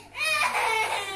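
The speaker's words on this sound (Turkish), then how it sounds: "Ağlama ağlama." A small girl crying in sobbing, whimpering bursts after being locked on a balcony, loud and close, with no talk during the cry.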